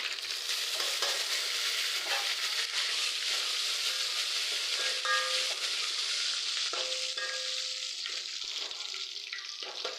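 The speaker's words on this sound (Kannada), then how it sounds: "ಸೊ ಸ್ವಲ್ಪ ಫ್ರೈ ಆದ ನಂತರ ಕರಿಬೇವು ಹಾಕ್ಕೊಳ್ಳಿ" Peppercorns frying in hot oil as a tempering for rasam, a continuous crackling sizzle close by with occasional small pops and light stirring, no speech over it.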